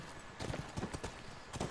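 Horse hooves galloping in The Last of Us, a quick series of soft, fairly faint thuds landing in uneven clusters over under two seconds, with no voices.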